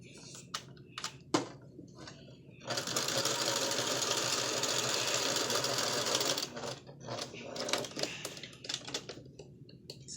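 A sewing machine stitches together the shoulder seams of a lacy flower girl dress in one steady whir of about four seconds. Short bursts of handling and clicks come before and after it.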